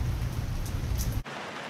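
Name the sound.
pouring rain during a Ford Model T drive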